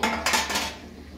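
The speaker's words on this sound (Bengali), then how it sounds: "এবার একটু আমি ঢাকনা খুলে দেবো" A metal lid is lifted off a pot of cooking tandoori chicken, giving a short clattering clink followed by a second ringing knock, close and fairly loud.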